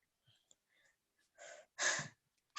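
A child out of breath after reciting Qur'an reading lessons gives a few faint catches of air, then two louder, heavy breathy exhales in close succession, close to the microphone with no talking.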